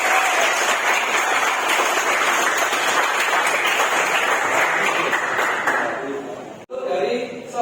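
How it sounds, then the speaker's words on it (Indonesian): Classroom applause during a teaching session, a brisk burst of many hands clapping together that cuts off sharply near the end, followed by a brief moment of room noise. "Tepuk tangan buat Lydia"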